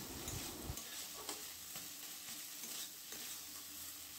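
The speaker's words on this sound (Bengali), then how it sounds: "এইবারে এটাকে ভালো করে চালিয়ে নিয়ে 2 মিনিট ভেজে নিতে হবে।" Fish and ground spices fry in a pan for Bengali fish chops, a soft steady sizzle with occasional light scraping as they are stirred, quiet and close.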